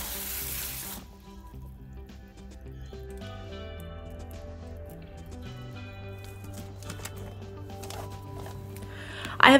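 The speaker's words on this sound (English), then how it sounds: "Water in the roots and all the new soil." Water is poured onto fresh potting soil around the roots of an indoor plant just moved into a bigger pot, a brief splashing rush at the start before steady background music takes over.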